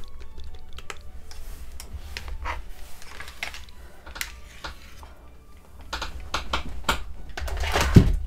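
Computer keyboard typing at close range, irregular clusters of light clicks and key taps, moderately loud with faint background noise and no talk.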